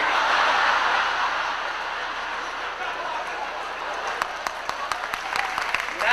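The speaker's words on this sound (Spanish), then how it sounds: "Los que aplauden son árabes." Audience applause at a live stand-up comedy routine, a broad dense wash of clapping that starts loud and gradually thins, with a few sharper individual claps standing out near the end.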